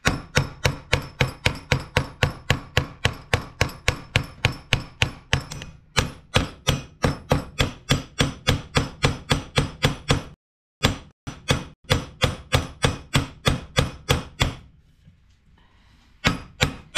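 Fast, sharp hammer blows on a brass pin in a garden tool, struck in quick succession up close, with a couple of brief pauses and a final short burst after a quiet stretch.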